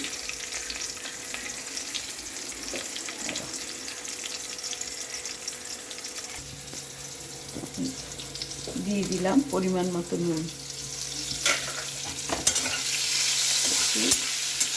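Steady sizzling of pointed gourd and other vegetables frying in a pan with salt, with occasional stirring scrapes, a voice speaking briefly over it partway through.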